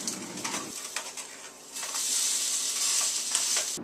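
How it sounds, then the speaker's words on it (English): A crab cake frying in a pan starts with some scraping and handling of the pan, then settles into a bright, steady hiss for the second half. Nearby and with no voices. "After putting the crab cake on the pan, remember to flip it."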